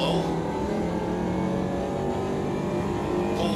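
A Mini Cooper engine in Automobilista 2 at Brands Hatch, droning steadily and loudly at high revs, held throughout with a brief lift near the end.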